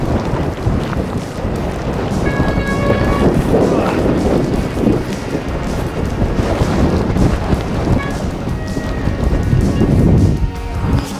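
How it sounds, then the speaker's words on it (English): Heavy cold, wet gusting wind roars and batters the microphone nonstop, a loud low rumble with surging gusts and faint talk buried beneath. "It is windy and cold."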